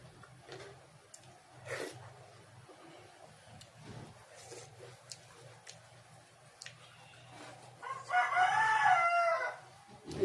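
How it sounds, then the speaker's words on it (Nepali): A rooster crows once loudly near the end, a long rising and falling call, after a stretch of faint clucks and scattered low background noise. "यो भाले के कामले बाँसेको होला।"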